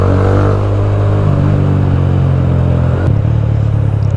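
A TVS Apache RTR motorcycle with a dual exhaust revving, a loud, close, deep rumbling exhaust note that holds steady then drops off sharply near the end.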